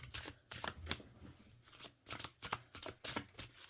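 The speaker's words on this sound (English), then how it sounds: "Okay, let's shuffle this up." Repeated soft bursts of tarot cards being overhand shuffled by hand, close and quiet, in an uneven rhythm of quick pulses.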